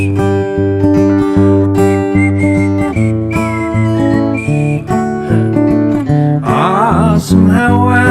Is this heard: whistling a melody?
yes